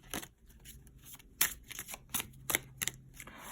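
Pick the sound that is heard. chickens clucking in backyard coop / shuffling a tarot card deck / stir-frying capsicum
shuffling a tarot card deck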